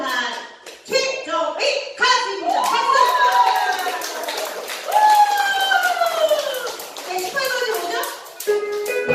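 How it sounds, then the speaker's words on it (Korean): At a Korean day care center, an audience claps in short bursts while children's and adults' voices and singing carry over the top, and the clapping stays partly buried under the talk. "자, 박수로 청해주시면 좋겠습니다. 박수!"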